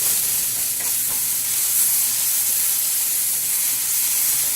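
Rice fries in a hot pan for Mexican rice, giving a loud, steady sizzle with scattered small pops and crackles throughout and no talk.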